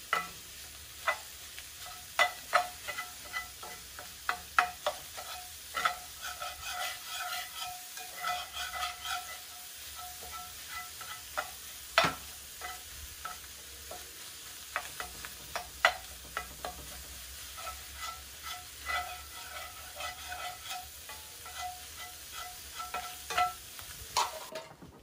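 Bannock frying in a pan, a soft steady sizzle with frequent small ticks and pops, fairly quiet and close, no talking.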